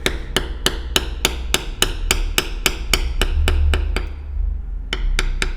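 A mallet strikes a leather beveler in a steady series of sharp, close taps, roughly three per second, as the line on a card holder is tooled. A brief pause comes near the end before a few more strikes.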